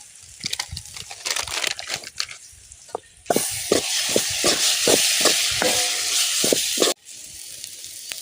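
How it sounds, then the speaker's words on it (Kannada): Ginger garlic paste sizzles and is stirred in a hot pan for a village-style egg recipe, scraping strokes at first, then a loud continuous fry with rhythmic spatula knocks that cuts off suddenly. "ಒಂದು ಸ್ಪೂನ್ ಶುಂಠಿ ಬೆಳ್ಳುಳ್ಳಿ ಪೇಸ್ಟ್ ಫಸ್ಟಿಗೆ ಹಾಕೊಳೋದಲ್ಲ ಇವಾಗ ಹಾಕೋಬೇಕು"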